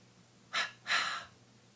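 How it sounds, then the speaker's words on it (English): Two audible breaths, a short intake followed by a longer, fuller breath, close and soft in a quiet room with no talking. "Take a deep breath"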